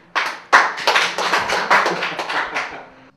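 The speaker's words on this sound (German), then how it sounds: "Dank unserem neuen Signing, dem Casper, einmal Applaus dafür." A few people clapping in loose bursts of separate, close slaps during an interview, with short pauses between the bursts.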